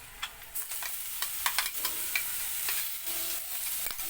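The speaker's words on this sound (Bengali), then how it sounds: "এতে আমি এই বাঁধাকপি পাতা পেস্টটা দিয়ে দিচ্ছি" Cabbage leaf paste fries in a pan with salt and turmeric, a soft steady sizzle broken by repeated scraping stirs and small pops, close up and quiet, with no voices.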